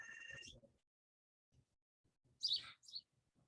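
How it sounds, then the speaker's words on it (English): Birds chirp outdoors in a park during an outdoor fitness class: a few bright, short tweets and a quick warbling call, fairly close, with quiet gaps and soft low rustle between them. "I've got some nice birds entertaining us here today with some beautiful tweets."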